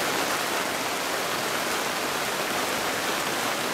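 Rain falls at a roadside drink stall in the Mekong countryside, a steady dense hiss that stays even and loud the whole time with no talk.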